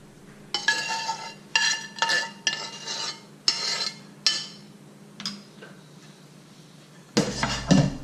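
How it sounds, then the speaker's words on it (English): A ladle or spoon scrapes and clinks against a pot and serving bowl as gravy is transferred, about six distinct metallic scoops in a steady rhythm, close and fairly loud, ending in a louder clatter. "I'm going to be putting it into our serving bowl."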